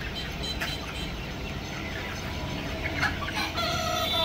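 A crowded room of about 1500 broiler chickens, 51 days old, fills the air with a dense, continuous chorus of clucking and chattering, with a few louder calls rising out of the noise near the end.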